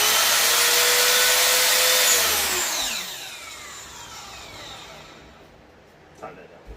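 A power tool spins at high speed and then winds down with a falling whine as a part gets tightened during a split-feed build, loud at first and fading into the background, with a brief knock near the end.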